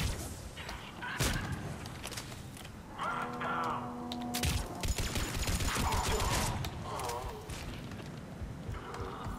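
Gunfire in the video game Mass Effect 3 rattles in scattered bursts and single cracks amid mechanical clatter and electronic effects, while game voices talk over the shooting throughout.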